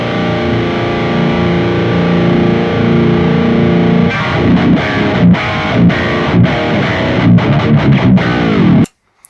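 Heavily distorted metal electric guitar played through a Mooer GE200 amp modeler, loud and dense, starting with a sustained chord, then switching to tight, fast palm-muted chugging riffs that cut off abruptly at the end.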